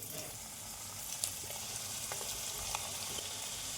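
Twist roll dough frying in hot oil in a wok, a soft, steady sizzle with faint crackles and light pops, no voices.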